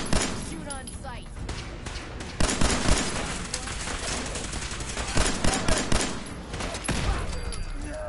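Enemy gunfire in Fallout 4, dense bursts of automatic fire and rattling shots with a heavier surge midway, overlapping voices in a noisy firefight.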